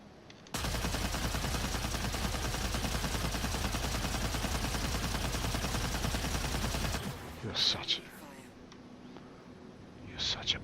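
Gunfire in a video game: a dense, continuous burst of rapid shots lasting about six seconds that cuts off abruptly, followed by a few softer, scattered clatters.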